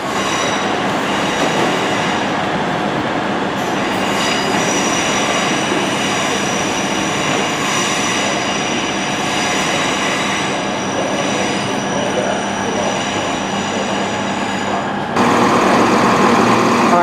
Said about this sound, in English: Another train going the other way.